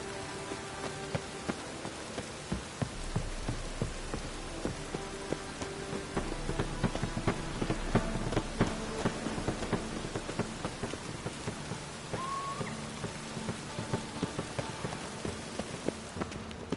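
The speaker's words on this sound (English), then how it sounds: "I like rain." Steady rain falls in a video game, a dense, constant patter of drops on surfaces with faint rumbles, continuing evenly throughout with no talking.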